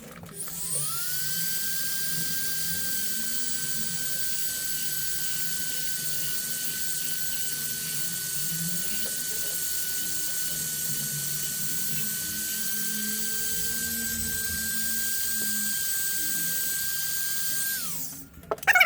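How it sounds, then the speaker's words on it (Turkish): A steady high-pitched drill whine runs unbroken for about eighteen seconds while drilling holes in a circuit board, close and fairly loud, with a motor hum beneath it. "Hemen deliklerini delelim ve devremizi yapalım."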